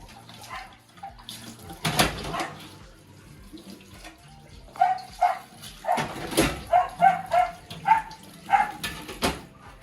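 Running tap water splashes over dishes being washed in a kitchen sink, with intermittent clatter and knocks of crockery rising and falling in short bursts, close by and fairly loud, with no talking.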